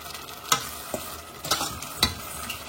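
A sauce heats toward a boil in a pan, with a steady bubbling hiss under several sharp scrapes and knocks of a utensil against the pan.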